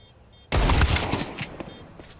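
Pistol gunfire in a Counter-Strike match at IEM Cologne 2025, FURIA versus MOUZ, a sudden loud burst of rapid shots followed by decaying echoes and a few scattered trailing shots.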